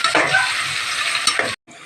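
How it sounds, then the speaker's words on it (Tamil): Onions frying in a pan for soya biryani, cooked down until maroon, give a steady close sizzle with soft stirring scrapes, cutting off briefly near the end. "அது வரைக்கும் நல்லா வெங்காயத்தை போட்டு நல்லா வதக்கிக்கலாம்."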